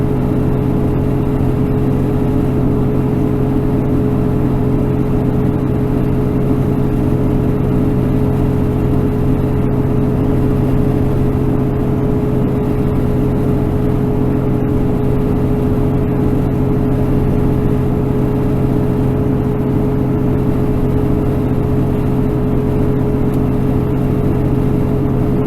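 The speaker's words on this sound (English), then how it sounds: "I got the tack running about 1800 here." A car engine held at a steady 1800 rpm on Wyoming Highway 14 in the Bighorn Mountains, a constant, loud, even drone with strong harmonic tones that never changes over the whole stretch, with no talk.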